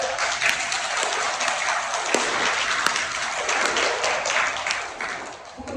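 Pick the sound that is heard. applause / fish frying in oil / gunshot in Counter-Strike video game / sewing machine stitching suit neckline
applause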